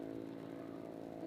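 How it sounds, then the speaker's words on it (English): A loud vehicle with a faulty muffler drones steadily at a distance, its harsh, buzzing engine tone rumbling throughout without a break. "Yep, that's a vehicle. Somebody got a muffler issue."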